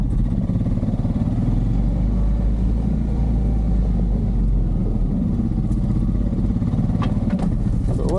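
A Honda Pioneer 500 side-by-side reverses through snow with a steady low engine drone and rumble that stays loud and close throughout, with faint talk partly underneath.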